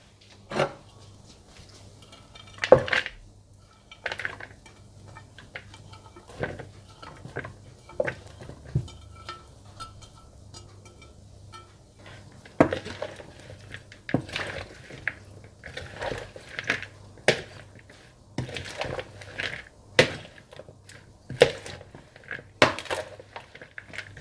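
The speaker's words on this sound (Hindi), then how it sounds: "इसमें प्याज, टमाटर, खीरे और बीन्स स्प्राउट डालकर अच्छी तरह से मिला लें" Onion, tomato, cucumber and bean sprouts tossed together in a bowl for a Thai beef salad, sparse clinks and soft scraping taps of a utensil against the dish, spaced irregularly and quiet between strokes.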